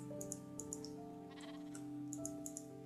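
Sheep bleat in the Minecraft video game. Short, repeated calls come one after another over steady, tonal background music.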